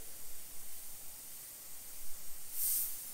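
A Sagola XTECH 200 airbrush spraying, a faint, steady airy hiss throughout with a brief brighter burst near the end, quiet and alone.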